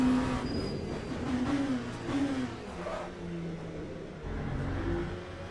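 An LMP2 prototype race car in the Le Mans Ultimate sim racing game drones steadily, its engine note rising and falling through shifts at moderate level with no voices.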